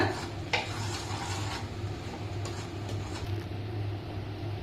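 Grated coconut is stirred into jaggery in a pan over a medium flame, a quiet continuous scraping and rubbing with a faint low sizzle underneath and a few soft clicks of the spoon, with no voices.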